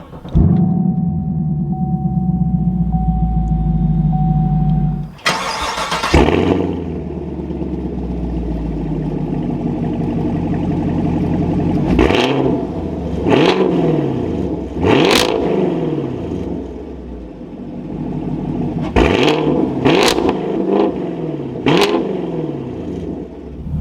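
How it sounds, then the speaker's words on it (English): A 2021 Chevrolet Camaro 2SS V8 fires up with a sharp burst, settles into a rumbling idle, then gets several quick, loud revs that rise and fall back. "now inside the Camaro, keeping my foot on the brake, we can go ahead and fire it up"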